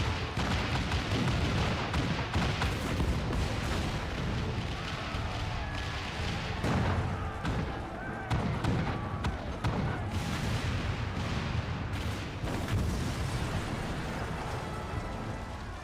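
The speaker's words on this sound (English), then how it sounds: "All cannons resume firing!" A cannon bombardment in the game Final Fantasy XIV Stormblood, a steady barrage of heavy booms and blasts rolling on continuously amid battle noise.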